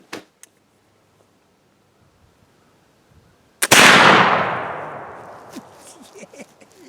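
A single loud rifle shot fired offhand with a Schuetzen black-powder rifle at a steel target, a sharp crack followed by a long fading outdoor echo after a quiet lead-in.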